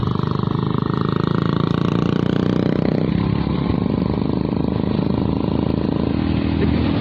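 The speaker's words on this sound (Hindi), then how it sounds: "ये टैपेट का जो साउंड होता है ना क्लिक वाला, ये बहुत इरिटेटिंग लगता है" A motorcycle engine runs loud and close, with a rapid steady tappet clicking over the throb, shifting slightly in pitch midway.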